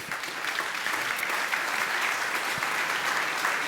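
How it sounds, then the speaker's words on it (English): Steady, dense applause from a conference panel audience at a session on the expanding EV market, filling the hall evenly and continuously without a break. "For the questions, you can clap for yourselves."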